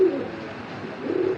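Soft cooing of a large red checker racing pigeon of the Dragon bloodline, two low throaty coos near the start and end with a murmur between, close by and alone.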